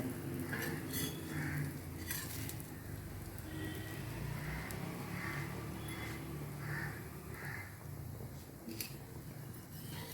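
An omelette-style egg dish fries in a pan with a soft, steady sizzle that stays faint and even throughout, with no talking.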